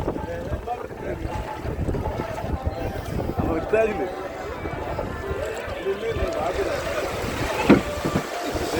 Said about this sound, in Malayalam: ഇതാ കേരവള്ളമാണ് ഇത് വന്നൊരു വള്ളമാണ്